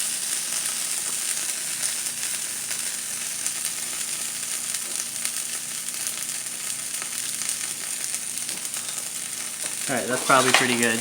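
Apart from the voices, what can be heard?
eggs frying on a stovetop at medium high heat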